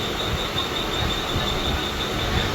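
A Mumbai local train running past Dadar, heard from on board as a steady, loud rumble of wheels and carriage noise with a faint high whine, continuous throughout.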